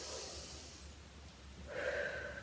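Slow yoga breathing during a seated rocking exercise in a home workout for seniors: one soft, airy exhale followed by an inhale, close and quiet, with no speech.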